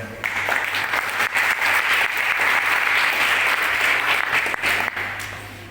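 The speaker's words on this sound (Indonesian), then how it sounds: "Tepuk tangan dulu." Steady applause from an audience at an HMI regional plenary assembly in Pelaihari, dense and sustained for several seconds before tapering off, with no talk over it.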